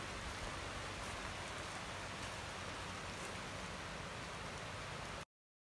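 Steady rain falls outdoors with an even, hissing patter, fairly faint and unchanging, before it cuts off abruptly near the end, with no voices.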